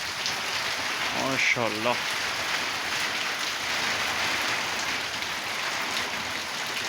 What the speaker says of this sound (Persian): الهی چه بارونی میباره امروز